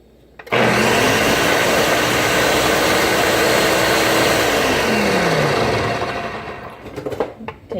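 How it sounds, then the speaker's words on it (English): Kitchen blender whirring loudly as it mixes ingredients, starting abruptly, holding a steady high-pitched roar for about five seconds with a pitch drop near the end, then shutting off into scattered clatter. "We're gonna blend this real quick."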